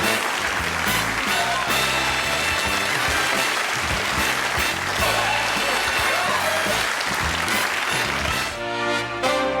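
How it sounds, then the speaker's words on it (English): A studio audience at the Johnny Carson Show in 1990 applauds loudly and continuously, a dense wash of clapping that blends with the band music playing underneath. "I'm humbled by that applause."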